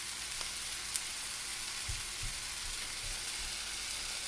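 Crushed ginger and garlic fry in a pan with tomatoes over a medium flame for a potato tomato curry, giving a steady close sizzling hiss broken by a few soft low thumps of stirring, with no talking.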